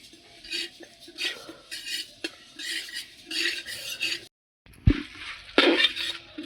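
Moong dal frying in a pot for khichuri, stirred with a metal spoon in repeated scraping, clinking strokes, with a brief pause before a louder clatter and more stirring.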